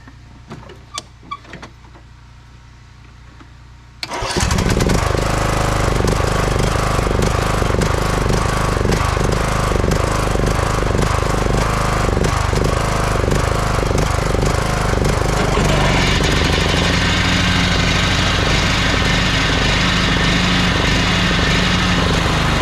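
A John Deere riding mower with no alternator is jump started: a few quiet clicks and knocks come first, then the engine catches and runs loud and close. It roars steadily for the rest of the clip, and its tone shifts slightly partway through.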